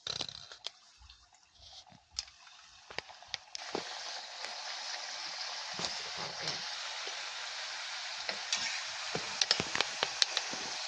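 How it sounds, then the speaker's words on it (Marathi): Wheat-flour kapnya fry in hot oil over a medium flame. The sound starts with a few scattered pops, then swells into a continuous bubbling sizzle with crackles, heard close up and without talk. "आता मी कापण्या तेलामध्ये सोडते"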